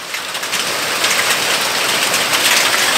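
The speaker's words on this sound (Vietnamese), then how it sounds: "Đây mưa đá." Hailstones falling in a hailstorm over a mountain village, a loud, unbroken hiss and patter with no voices.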